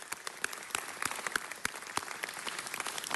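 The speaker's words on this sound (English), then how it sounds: "Let's give all of our public works employees a round of applause for their dedication to our city." Applause for public works employees at a Los Angeles City Council meeting, steady clapping from a chamber audience with a few sharp individual claps standing out, sustained throughout at moderate level.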